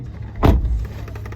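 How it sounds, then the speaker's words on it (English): A car is locked, giving one short mechanical clunk with a quick whir, close and fairly loud against quiet background hiss. "We'll make sure I lock the car"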